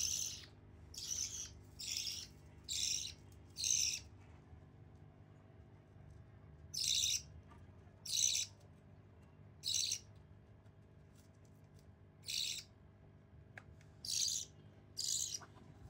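Pet lovebirds chirping in loud, high-pitched bursts of rapid calls, grouped in clusters with short pauses between, close by over a quiet room hum.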